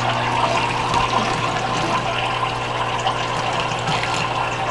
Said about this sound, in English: We used an 11-watt fountain pump to push the water up through the aquarium